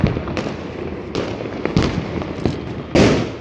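Firecrackers bursting during Diwali celebrations: a rapid run of loud, close bangs and sharp crackles in an irregular rhythm, with a heavier burst near the end and no talking.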